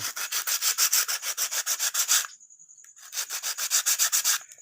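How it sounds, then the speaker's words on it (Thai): Steady back-and-forth rasping of sandpaper on wood, rapid rhythmic strokes close up, with a brief pause midway before the rubbing resumes. "กระดาษทราย"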